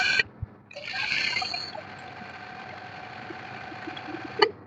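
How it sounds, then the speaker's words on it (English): A sewing machine runs a zigzag stitch on a corset, a steady mechanical hum with a faint rhythmic whir, close by, preceded by a sharp click and ending with another sharp tap. "So it sews it together in zigzag."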